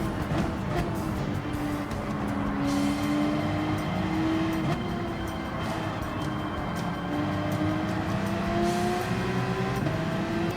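Race cars, including a Porsche, accelerate in the Gran Turismo 7 racing game, a continuous engine drone climbing in pitch through the gears, steady and fairly loud without breaks.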